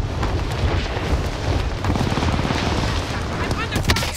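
Dense, continuous gunfire and explosions from Call of Duty: Modern Warfare roll on for the whole span, a loud steady barrage with rapid bursts layered together and no pauses.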